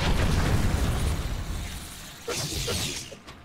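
A booming explosion in the video game Atlas Reactor, loud at the start and fading into a rumbling tail, with a smaller crackling burst following.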